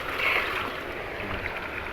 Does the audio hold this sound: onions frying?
no